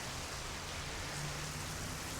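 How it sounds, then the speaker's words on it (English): Heavy rain pours down outdoors in Raleigh, North Carolina, a dense, unbroken roaring hiss of falling water that stays loud and even throughout, with no voices. "it's raining like crazy"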